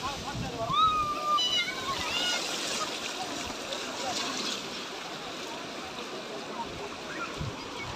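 Ocean waves wash onto the beach at Kovalam with a soft continuous surf hiss, and a few faint whistles or bird-like chirps come early on.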